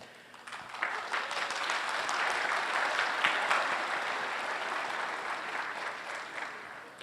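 An audience at a talk on internet access breaks into sustained applause, a dense, even wash of clapping that lasts about seven seconds.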